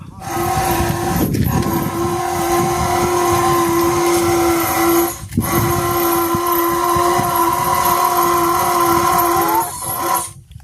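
Power drill boring holes for bathroom work, first with a small bit and then a large one: a loud, steady motor whine runs almost throughout, dipping briefly at a few moments as the trigger eases, with no talk.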